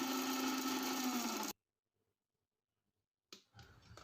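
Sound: mixer grinder grinding green chillies, cumin and garlic

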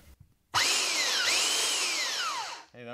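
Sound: hand belt sander running

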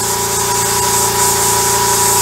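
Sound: air compressor running during model spray painting

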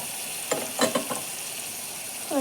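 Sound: tomato ginger garlic paste frying in pan

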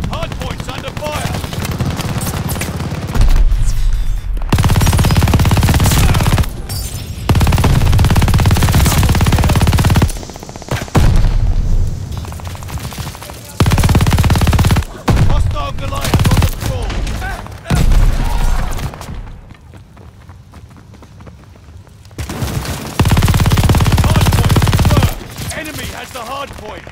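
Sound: gunfire at the hardpoint in the video game Call of Duty Vanguard

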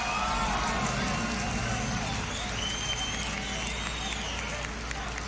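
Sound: crowd cheering and applauding at the beatbox battle

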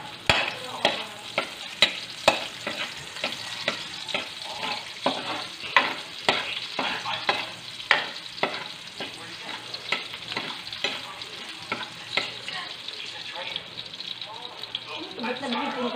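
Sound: garlic sautéing in hot oil

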